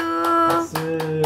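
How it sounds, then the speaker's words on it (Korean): A young child claps hands at the table after finishing a meal, a few separate sharp claps spaced about a quarter second apart, close and clear, while a steady tone hums underneath. "잘했어, 박수."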